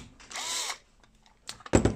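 A power drill with a 2 mm bit, used while building electronic business cards, spins up in a loud, whining burst lasting about half a second, then falls quiet before a few sharp clatters and handling knocks close by.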